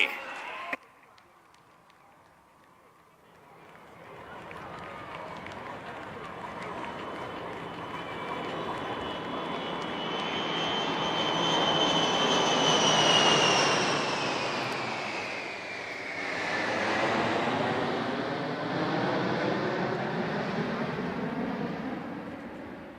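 Military jets flying past in Nataraj formation at an air show in Chennai. A roaring engine rumble swells from far off to a loud, sustained pass overhead, then slowly fades. A crowd and a commentator can be heard underneath.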